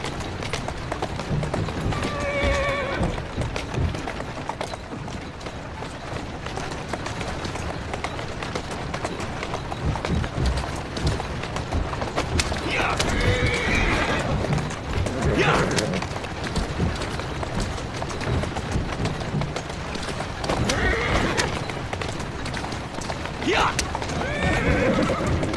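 A horse whinnies several times and its hooves clop at a walk in an Assassin's Creed Syndicate game scene. The whinnies come in clear bursts over constant ambient noise, and a voice speaks in places.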